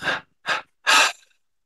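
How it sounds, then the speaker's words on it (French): A person exhaling in three separate breaths during a guided meditation, two short puffs followed by a longer, fuller breath out, close and clear against silence. "On expire en 3 fois"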